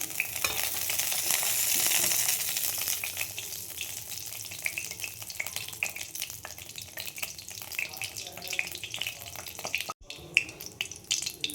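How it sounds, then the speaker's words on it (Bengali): Cumin seeds tempering in hot oil for an oats khichdi, a loud steady broadband sizzle that fades slightly after the first seconds, then a brief gap and a crackling return. "এখানে তেল দিয়েছি, একটু জিরে ফোড়ন দিয়ে দিলাম।"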